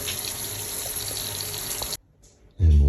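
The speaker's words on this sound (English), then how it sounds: "very low flow of water when more than one fixture is turned on" A tap running at low flow in a house under inspection in France, a steady hissing stream that stops abruptly, then a brief silence before a louder burst of water.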